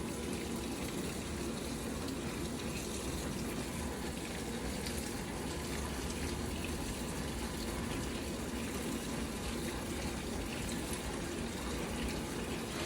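Water pours steadily into an LG top-loading washing machine with an agitator and deep fill, a constant loud rushing and gushing that holds unchanged throughout with no voices.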